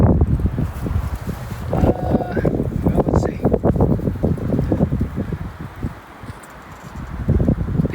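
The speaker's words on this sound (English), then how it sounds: "The wind is blowing." Wind gusts rustle through leaves outdoors during an elk archery hunt, a steady broadband hiss and flutter that swells and eases over several seconds, with occasional soft thumps and no clear talk.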